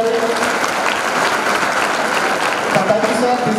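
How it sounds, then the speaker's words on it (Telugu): Sustained applause from an audience of tenth-class students at a motivational session, dense and steady throughout, with a few voices faintly mixed in. "సో గట్టిగా క్లాప్ కొట్టండి సార్ ఒకసారి"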